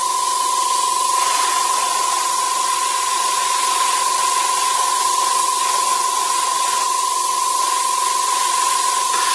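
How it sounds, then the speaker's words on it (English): An airbrush sprays a thin coat of brown oxide primer onto a scale model WWII German jerry can, giving a steady close hiss throughout with a constant high whine beneath it. "So let's fire up the airbrush and we'll get this one done."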